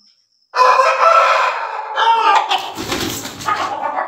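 A Madagascar Aseel game fowl rooster crows loudly and close, one long raspy cock-a-doodle-doo that breaks into a ragged trailing finish, heard alone against a quiet background.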